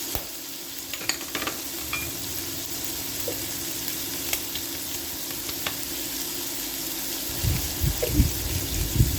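Ground pork with pechay sautéing in a pan makes a faint, steady sizzle with scattered clinks and stirring scrapes, growing louder near the end.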